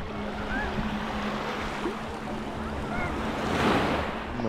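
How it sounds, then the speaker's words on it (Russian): Sea surf rolls onto the beach at Anapa, a continuous broad wash of breaking waves with wind buffeting the microphone and a swell building louder near the end. "Море замечательно."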